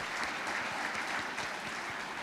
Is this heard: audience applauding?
yes